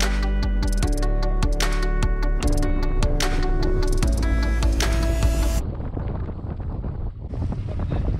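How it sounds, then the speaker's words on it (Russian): Strong storm wind buffets the microphone outdoors on a shore during a duck-hunting trip, heavy and close; sustained tonal ringing fills the first part before it gives way to rough, gusting rumble. "С ветром не справляемся."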